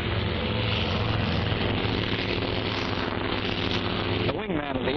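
A WWII Grumman Hellcat fighter's propeller engine roars loud and steady, close and continuous, on a 1945 aircraft carrier, with a brief shift in pitch near the end as the plane passes.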